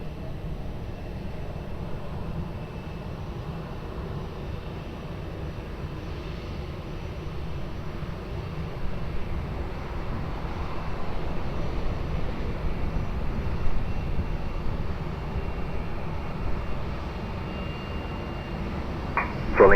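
An airliner on approach to runway 20 at Lisbon Airport, a steady low engine rumble and roar that swells gradually toward the middle and end, with no voices over it.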